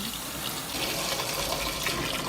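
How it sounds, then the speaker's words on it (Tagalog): Water runs steadily from a tap into a pot of eggs, a continuous splashing rush at close range. "Lagyan na natin ng tubig."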